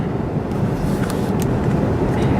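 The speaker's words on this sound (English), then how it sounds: "A very small amount of wind noise on our window over here to the left." Steady low road rumble and soft wind hiss inside the cabin of a VW Tiguan SEL on a night drive, fairly quiet and continuous with no talking.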